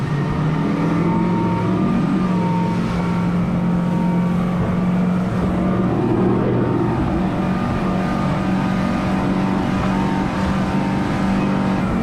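A Saxdor 200 motorboat runs at full throttle on open water, its outboard engine giving a loud, steady, droning roar that rises slightly in pitch throughout, with rushing water and wind underneath.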